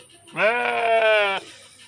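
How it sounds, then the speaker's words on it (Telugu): A single sheep bleats once, a clear, drawn-out wavering call lasting about a second, close by in quiet surroundings on a Telangana farm. "ఇక్కడ కనబడుతున్న ఎనిమిది గొర్రెలు రెండు కొదుమలు అయితే అమ్మకానికి అయితే ఉన్నాయి"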